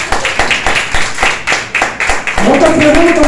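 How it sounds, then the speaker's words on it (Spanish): A church congregation claps together in a loud, rhythmic burst of applause during a worship service, the beats spaced steadily, before a voice begins speaking over the end. "Den un fuerte aplauso al Señor."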